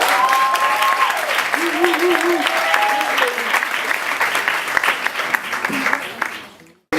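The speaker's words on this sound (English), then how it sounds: "give them a round of applause" Loud, sustained applause and cheering at a poetry slam, a full room clapping close by while voices call out over it, then fading out near the end.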